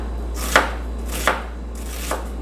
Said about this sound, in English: I'm going to start chopping my onion